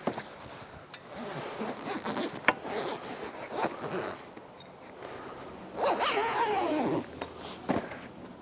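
A zipper on a cantilever parasol's cover is pulled along fabric in several quick rasping strokes, close by, with light rustling and handling noises between them.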